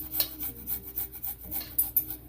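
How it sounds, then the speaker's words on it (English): A garlic clove rasped across a small grater for a tzatziki sauce, a quick series of about a dozen rhythmic scraping strokes, close and fairly quiet. "let's go ahead and grate the whole clove of garlic in here"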